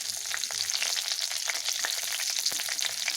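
Curry leaves dropped into hot oil with popped mustard and fenugreek seeds for a dried anchovy kuzhambu crackle and spit in a dense, continuous close-up frying sizzle with rapid sharp pops throughout.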